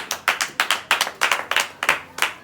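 Church congregation clapping in rhythmic bursts during a worship offering, sharp hand claps repeating steadily and loud, with no voices over them.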